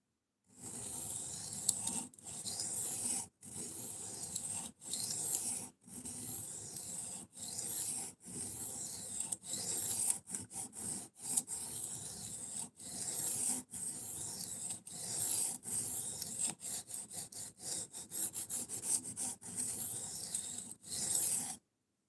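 A knife blade is sharpened on a coarse 120 grit stone with repeated gritty scraping strokes in a steady rhythm, close and fairly quiet, continuing for a long stretch.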